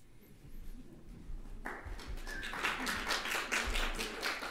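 Audience applause at a triple book launch, rising from quiet to a dense, steady patter of many hands clapping in a room, sustained to the end.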